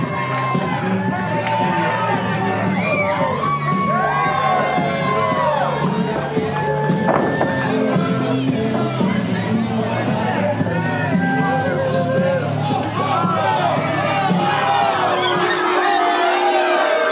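Wrestling crowd at an IWE event cheering and shouting after a match win, a loud continuous roar of voices with whoops and yells, fading toward the end.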